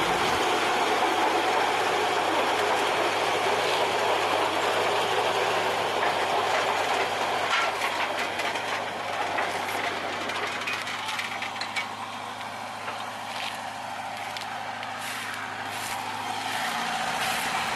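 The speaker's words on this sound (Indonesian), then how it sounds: "akhirnya roda lokomotif tidak selip teman-teman, dan melanjutkan untuk melangsir lori-lori kosong ini ke jalur yang lurus" An old sugar mill locomotive at PG Kedawung shunting a string of empty cane lorries, giving a loud continuous rumble with a steady low engine tone and metallic clanks and rattles from the wagons, close by.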